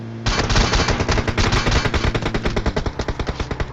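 Rapid bursts of automatic gunfire in a battle royale video game, loud and close, with dense repeated shots rattling steadily for several seconds and no talking.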